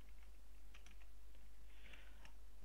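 Keys tapped on a computer keyboard while a web address is entered into a browser: a handful of soft, scattered clicks over a steady low hum, with no talking.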